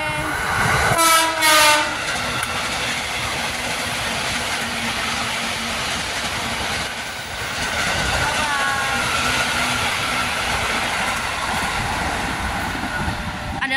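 A KRL commuter electric train rumbles past with a loud horn blast at the start and another later, wheels clattering steadily throughout, with faint talk underneath.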